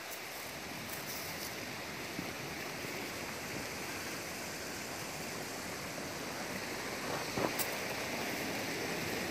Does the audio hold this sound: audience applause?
no